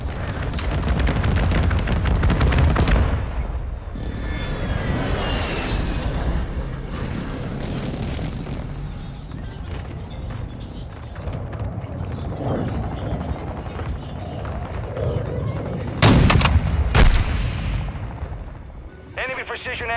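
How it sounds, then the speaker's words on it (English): Precision airstrike in Call of Duty: Modern Warfare II: dense, sustained barrage of booming blasts and rattling gunfire across the whole stretch, with sharp loud bursts near the end, under faint game voices. "Friendly precision airstrike inbound."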